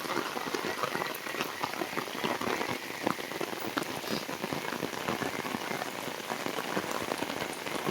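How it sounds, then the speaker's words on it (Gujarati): Heavy rain pours over a village with waterlogged fields, a dense, even roar of drops hammering surfaces nearby without letup and no voices. "જુઓ વરસાદની મોસમ જુઓ તમે, ફૂલ વરસાદ જુઓ"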